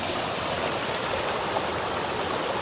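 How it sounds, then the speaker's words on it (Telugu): A stream flowing toward Halua Waterfall in Odisha rushes steadily close by, a continuous wash of gurgling noise with no pauses. "వాటర్ ఇలా పారుతుంది అనమాట, ఇలాగే వెళ్తుంది వాటర్ ఫాల్స్కి"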